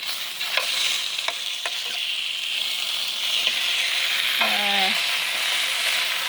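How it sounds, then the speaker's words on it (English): Green chili pork steaks brown in a hot pan with a steady, even sizzle throughout, close and fairly loud, with a few faint utensil scrapes and taps; no voices. "And then I'm gonna leave this one to brown a little bit."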